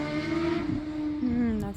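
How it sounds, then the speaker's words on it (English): A motorcycle passes along a road near a nature center pollinator garden, its engine tone rising and falling over about two seconds at moderate distance, under outdoor ambience and faint talk. "That's a motorcycle."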